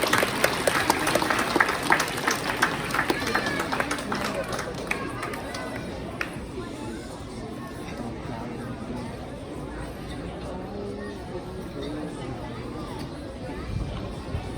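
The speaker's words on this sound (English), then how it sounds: "please put your hands together and welcome them on stage" An audience at a school assembly claps and cheers to welcome performers onto the stage, a dense burst of applause that fades into crowd chatter and murmuring voices.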